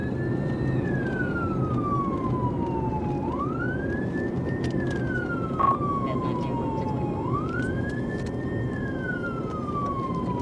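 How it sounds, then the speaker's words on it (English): An Arkansas state trooper's police car siren wails in slow, rising and falling sweeps during a traffic stop that turns into a pursuit, loud and steady over road noise, with a brief sharp knock midway. "Trooper Harper activated his lights and sirens to initiate a traffic stop"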